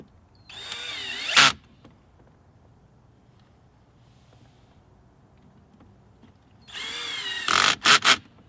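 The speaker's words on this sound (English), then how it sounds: "If you're using a drill, make sure it's on a light setting" A power drill on a light setting drives T20 screws into plastic interior trim of a BMW F30. Two separate close, loud whirring bursts run about a second each, the second ending in quick stop-start pulses, with quiet in between.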